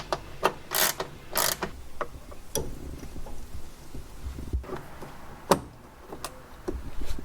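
Fittings on a braided PTFE flex fuel kit line on an FK8 Civic Type R are tightened by hand, giving scattered close clicks, ratcheting ticks and small metallic taps over a low background hum.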